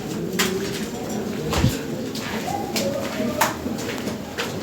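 Lahori Sirazi pigeons in a cage give soft, repeated cooing calls at close range. Intermittent clicks and knocks are heard, along with faint voices in the background.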